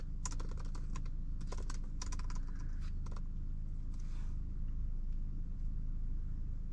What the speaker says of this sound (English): So I'm gonna real quick type something up, and then we'll read it